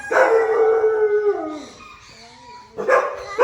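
A fox at a cowboy-themed attraction in Nong Bua Lam Phu, Thailand, gives a drawn-out howling bark that fades, followed after a brief pause by a second loud yelp, heard close and clear.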